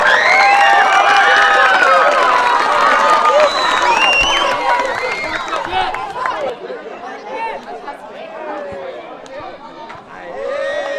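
Community crowd at the opening of a new neighbourhood sports court cheers and claps, loud voices and whoops dominating at first, then settling into scattered chatter and applause.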